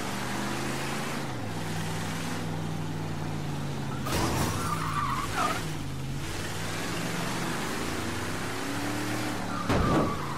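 A car in Mafia III held at full throttle while drifting gives a sustained engine drone whose pitch sweeps up and down, broken by a few louder bursts and tire-scrub noises.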